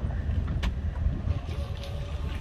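Duck-shaped pedal boat moving along the river at Nami Island, a continuous low rumble of churning water under light wind, with a brief sharp tick near the start, heard from nearby.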